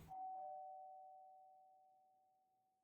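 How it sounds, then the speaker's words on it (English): A single electronic doorbell chime rings once, then its clear tone slowly fades into silence. "rings the doorbell"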